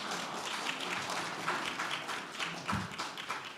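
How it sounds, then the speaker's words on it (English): Audience applause at a keynote economics speech, a dense, even patter of many hands clapping that holds steady throughout, with no voices over it. "Please do give an applause."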